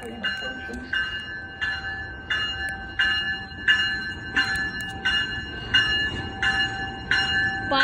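A train passes through Santa Clara station with a steady rumble, under an evenly spaced, ringing clang that repeats about every second, like a crossing bell.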